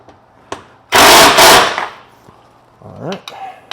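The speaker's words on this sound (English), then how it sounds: "Get it hand tightened, and then I'll finish it out with the impact." An impact wrench runs a single loud burst of about a second on dress-up bolts in the engine bay of a BMW F90 M5, set between a few sharp clicks and taps of handling in a quiet garage.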